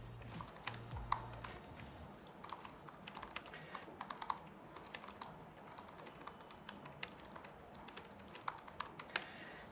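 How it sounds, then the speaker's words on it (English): Fingers tap on a computer keyboard in a quiet room, a steady run of soft, close key clicks with a few sharper strokes. "see when I type there"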